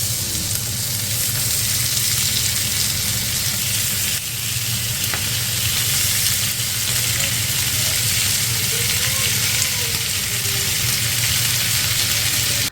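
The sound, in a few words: chicken tikka skewers sizzling in vegetable oil on a hot pan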